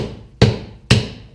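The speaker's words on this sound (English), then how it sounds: "3-pound hammer was working for the first one" A 3-pound hammer strikes the rear propshaft of a Kubota L3600 tractor during removal: two loud, close, heavy metallic blows about half a second apart, each with a short ringing decay.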